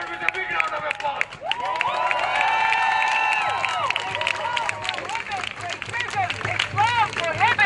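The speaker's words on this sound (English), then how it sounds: "Please welcome her with a big round of applause." A rally crowd in Westwood, Los Angeles cheers and claps after a speaker is welcomed, a sustained swell of whoops and applause with babble mixed in.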